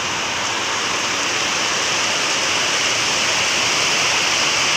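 Steady, dense hiss of heavy rain pouring down, a constant wash of sound with no pauses and no voices.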